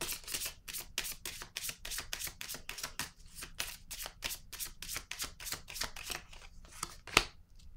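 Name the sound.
tarot card being laid down on table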